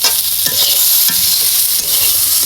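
Tomatoes sautéing in a pan, a loud close continuous sizzle with bursts of stirring strokes scraping through the softened pulp, no voices.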